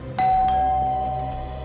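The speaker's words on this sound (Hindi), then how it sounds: "दरवाजे की घंटी ने बचा लिया बच्चू।" A doorbell rings once inside a home during a Hindi crime drama scene, a loud sustained electronic chime tone that fades slowly over about a second and a half, with no talking.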